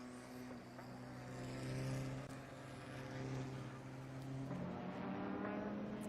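Supercar Challenge race cars circling the Assen circuit, a steady engine roar with shifting pitch as cars pass, heard at a distance and fairly faint.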